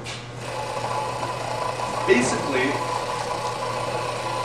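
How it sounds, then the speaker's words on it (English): An electric vacuum pump running on a wine filter setup holds a steady, even mechanical hum close by, with a person talking over it throughout. "And we're going to plug in the pump."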